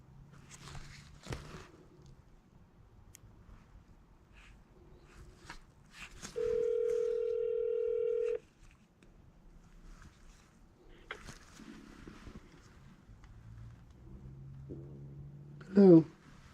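A phone places a call: a steady ring-back tone sounds for about two seconds, followed by scattered faint handling noises and a short rising electronic beep near the end.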